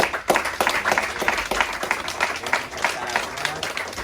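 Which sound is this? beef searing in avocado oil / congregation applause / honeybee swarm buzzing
congregation applause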